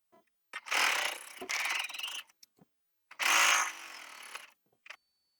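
Sewing machine stitching hems across the tops of fabric apron pockets, heard as two loud, close bursts of rapid whirring stitching with short quiet pauses and small handling clicks between them.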